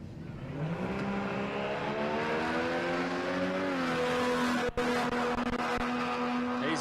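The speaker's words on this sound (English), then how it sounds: "Loves a burnout, this Stephen Forward." A six-cylinder Falcon drag car revs hard in a loud, sustained burnout at Palmyra Raceway, with rising engine harmonics, a brief drop in sound partway through, then a steady high-revving roar to the end.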